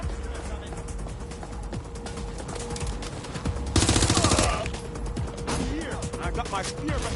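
A shotgun fires in a video game, cutting through a busy mix of rapid mechanical clatter and gunfire, with one loud, bright blast lasting about half a second midway.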